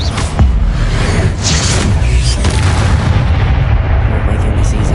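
Spell-casting blasts from combat in the Hogwarts Legacy video game: continuous loud booming and crackling bursts, dense and overlapping across the whole stretch, with a voice shouting spell names over the din.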